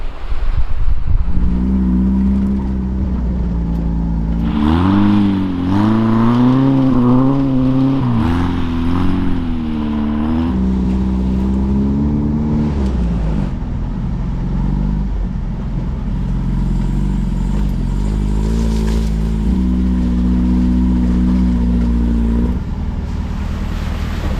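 A 1960 Volkswagen Beetle drives on sand, its close, loud engine droning steadily and rising and falling in pitch as it revs, with no talking.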